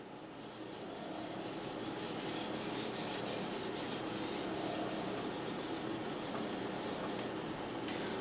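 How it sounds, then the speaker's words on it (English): Japanese knife being sharpened flat on a whetstone in uraoshi style, a steady, close, rhythmic scraping rub of steel on wet stone with regular back-and-forth strokes and no talking. "I'd be hitting the handle on the stone as I was sharpening"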